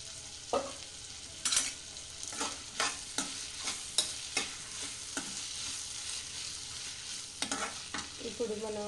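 Green peas for hotel-style aloo kurma frying in a pan, a spoon scraping and stirring them in repeated short strokes over a steady soft sizzle, close and fairly quiet, with no voices.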